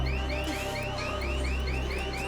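A loud electronic alarm wails in fast repeating rising sweeps, continuous and close, with no voices over it.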